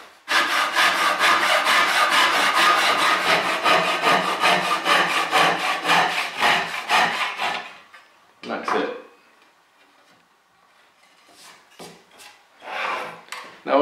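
Japanese saw cutting wood held vertically on a saw bench, fast rhythmic push-pull strokes loud and close for about eight seconds, then a few scattered short rasps after a pause.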